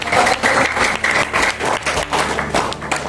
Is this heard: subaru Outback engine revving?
no